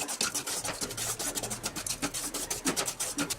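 Dry fruits, raisins, cashews, almonds and dried dates, are stirred into semolina in a bowl for Ganesh Chaturthi suji modak, giving a steady close-up grainy rubbing and scraping with rhythmic strokes, no talking.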